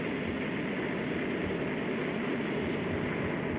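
A SpaceX Falcon 9 rocket climbing during a night crewed launch, heard from far off in DeLand, Florida, as a steady, broad roar that stays even and unbroken throughout.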